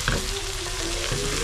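Onions, shallots and green chillies stir-fry for Kerala-style beef fry, making a dense, even sizzle close up with a faint tonal hum underneath and no voices.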